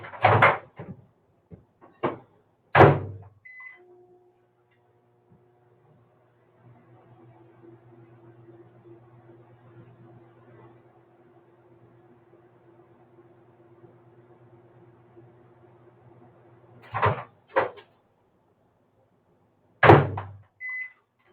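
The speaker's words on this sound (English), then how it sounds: "pop it in the microwave for just a few seconds" Microwave oven warming tortillas under a damp towel: a door shuts with beeps, then a steady low hum runs for about fifteen seconds before more beeps and the door opening and closing again, near and alone.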